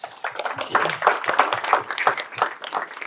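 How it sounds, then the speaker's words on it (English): Applause from a panel-discussion audience at a civic education event, a steady patter of many hands clapping with no pauses, moderately loud. "I think a big applause for you too."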